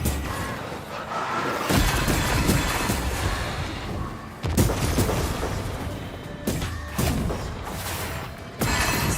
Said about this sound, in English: That was like big area of explosions